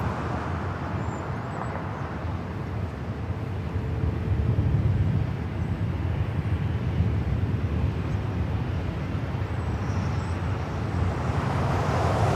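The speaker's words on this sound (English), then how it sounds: "Got that Avianca A320 with that Guatemala sticker there in the back," An Avianca Airbus A320 taking off from the north side at LAX, heard as a steady distant jet roar that builds slightly and holds over a continuous wash of traffic and roadway noise.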